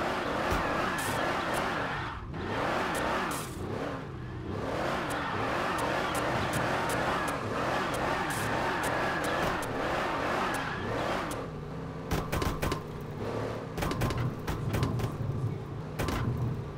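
Car engines in the Car Parking Multiplayer mobile game rev and accelerate repeatedly with rising and falling pitch, loud and close, followed by a few sharp clicks and a lower idling rumble.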